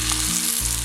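Finely chopped tomato and browned onion sautéing in oil for chicken biryani, giving a steady, close sizzle that continues throughout without speech.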